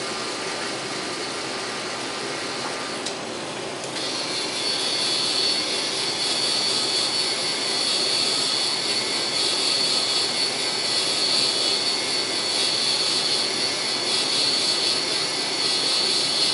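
A Spin-Rite cresting machine spins an arrow shaft, giving a steady, even motor whir with a high hum that runs unbroken for the whole stretch after a brief click near the start.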